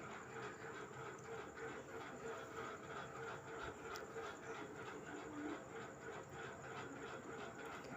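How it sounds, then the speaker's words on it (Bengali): Chopped chilli, onion, ginger, garlic and cashews fry in hot oil for Bengali katla fish puri, producing a steady, continuous sizzling hiss with faint scattered crackles at moderate volume. "তো বেশ কিছুক্ষণ আমি নাড়াচাড়া করে এটাকে লাল করে ভেজে নেব।"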